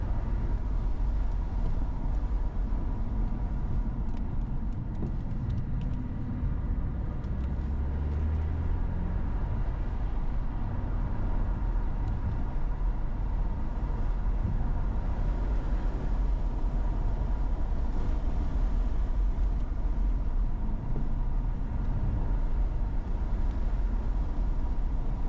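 BMW 2 Series car lapping a race track at moderate pace, held in third gear, a steady engine and road drone with tyre rumble heard from inside the cabin, continuous and fairly loud with no talking.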